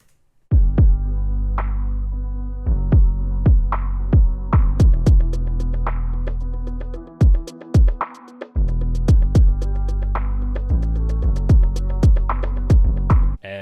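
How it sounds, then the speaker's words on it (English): A loud music beat plays with bongos driving a steady rhythm, crisp hi-hats and piano chords layered over deep thumping bass, with a brief drop midway. "those bongos are really driving the song and like keeping the rhythm"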